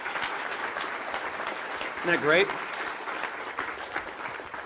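An audience claps for an artist standing up at a talk, a dense, moderately distant patter of many hands running throughout, with a voice briefly speaking over it.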